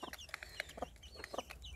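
Young chicks cluck and peep in a farmyard coop, a quick irregular run of short, soft chirping calls close by, with low background noise and no talking.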